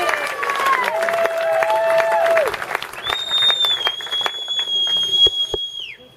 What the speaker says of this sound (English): I'd like to give a round of applause for Mr.